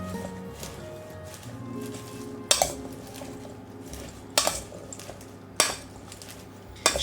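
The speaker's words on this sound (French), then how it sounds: "On va prendre directement les pinces pour bien mélanger." Tongs stirring a stuffed pepper and orzo filling in a pan give soft scraping and clinks, with several sharper metallic knocks against the pan spaced a second or two apart, all fairly close.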